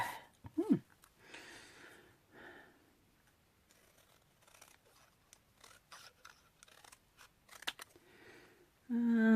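Scissors snip and slide through card while making a Stampin' Up pop-up card, a series of short, faint cuts and rustles close by with quiet pauses between them.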